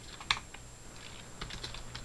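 Computer keyboard typed on in a short burst of a few quick, light keystrokes, close and fairly quiet, with no talking.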